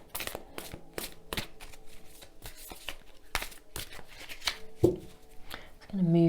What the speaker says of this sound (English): So let's shuffle and draw.